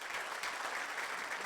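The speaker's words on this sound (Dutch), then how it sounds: "Applaus in de grote zaal van het Toon Hermans Theater." Audience applause fills the large main hall of the Toon Hermans Theater, a faint, steady wash of clapping heard from a distance with no voices over it.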